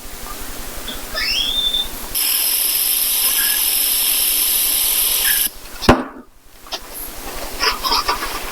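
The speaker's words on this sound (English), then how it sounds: "we'll give her a little spritz with the parts cleaner" Parts cleaner is sprayed from a can onto a starter under repair, giving a steady, loud aerosol hiss for about three seconds, followed by a clunk and quieter workshop handling.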